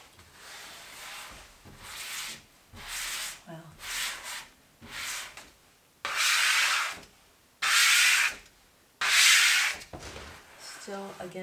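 A non-adhesive liner is smoothed out by hand, giving repeated broad rubbing and swishing strokes that grow louder and longer toward the end, close up and with no talk over them.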